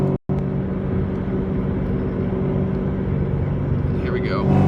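A 2003 Ford Mustang Cobra engine pulls steadily in fourth gear around 3,000 RPM, a loud, even, low drone heard from inside the car with a slight rise at the end, a voice briefly talking over it.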